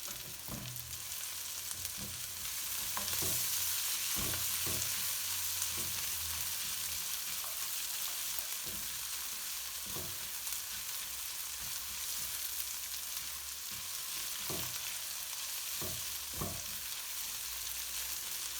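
Onion paste sizzling in a pan for a spicy tandoori chicken curry, a steady hiss of frying with occasional sharp stirring knocks and scrapes throughout.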